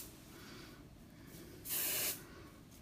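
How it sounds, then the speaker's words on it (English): Hairspray sprays onto hair styled in scrunched beach waves as a single short, close hissing burst lasting about half a second, over a quiet room background. "I'm just gonna spray."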